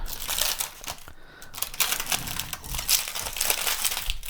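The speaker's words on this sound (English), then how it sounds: "And this is the crunchiest nori." Crisp, continuous crunching and crinkling of a roasted nori sheet folded around rice, close and fairly loud, with a brief lull partway through before the dense crackling resumes.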